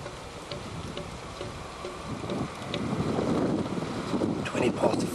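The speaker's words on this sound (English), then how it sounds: "Okay, the tractor is returning now down the hill." A vineyard spraying tractor comes back down a hill in Riebeek Kasteel, a low rumbling engine rising in loudness as it approaches, mixed with outdoor wind noise on the microphone.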